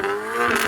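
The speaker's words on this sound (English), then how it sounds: "You're trying to psych someone out with the loudness of your exhaust?" A tuned car's exhaust revs hard up near the rev limiter at a drag race, loud and close, with a steady high engine drone filling a brief burst.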